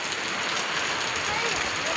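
May's first monsoon rain in Konkan keeps up a dense, steady hiss of falling drops nearby, with a faint murmur of voices mixed underneath.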